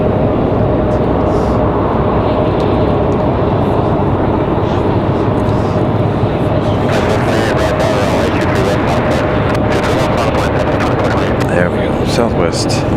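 An American Eagle Embraer E175 regional jet at RDU airport gives a steady, loud broadband engine roar that holds throughout, with a voice talking over it.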